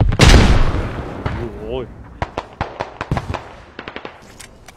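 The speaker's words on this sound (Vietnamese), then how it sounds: "Bắn từ đối diện" Rapid gunfire from the opposite side in the mobile shooter PewPew, a loud burst early followed by a string of sharp, separate shots at mid distance, with a brief voiced exclamation and a rising electronic tone mixed in.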